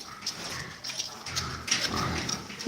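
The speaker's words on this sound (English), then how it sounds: "now the pigs have heard the feed as well" Pigs on a farm grunt and snuffle at feeding time, soft, irregular and fairly faint, with some rustling and farmyard noise around them.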